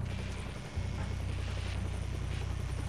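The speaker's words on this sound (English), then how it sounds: "requesting permission to lift off from Chopper Pad Alpha Niner" A helicopter lifts off in the stealth video game Splinter Cell Blacklist, its rotor thrumming in a steady, loud, broadband whoosh that holds without a break.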